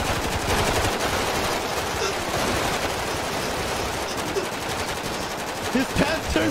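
Sustained automatic gunfire in the video game GTA 5, a dense rapid rattle of shots filling the clip at steady loudness, with a few excited shouts poking through near the end.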